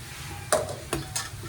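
Pork frita frying in a pan, with a steady quiet sizzle under three sharp scraping stirs of a utensil against the pan, close and fairly faint.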